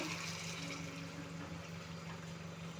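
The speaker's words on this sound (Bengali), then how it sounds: "জল দিয়ে দিচ্ছি" Water poured into a pan of thin fish curry with ridge gourd and fried tomato, a steady close rushing splash holding for about three seconds over a low hum.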